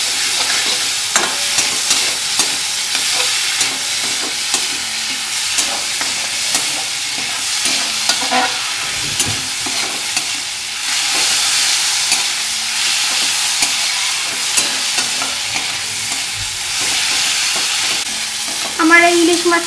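Hilsa fish and its oil frying in a pan hiss and sizzle loudly and steadily, with frequent clinks and scrapes from stirring and a brief clatter near the end.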